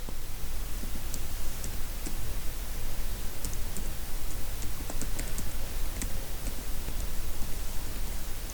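Python code being typed on a computer keyboard: scattered quick key clicks and taps over a steady hiss of background noise, with no talking.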